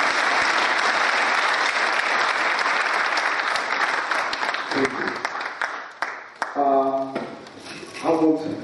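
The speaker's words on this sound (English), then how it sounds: "Let's clap for everybody." Audience clapping at a youth agriculture graduation ceremony, sustained broad applause that thins out toward the end as voices begin talking over the last seconds.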